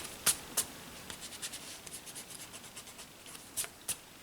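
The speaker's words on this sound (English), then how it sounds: "Let me just erase some of the lines that I got here." Pencil lines being erased on paper with an eraser, a quiet series of soft, brief rubbing strokes, a few sharper scuffs among them, heard close up with no talking.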